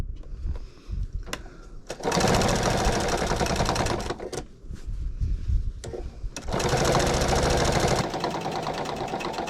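A sewing machine top-stitches a pillowcase in two long steady runs of rapid needle chatter, loud and close, separated by short pauses with softer handling noise.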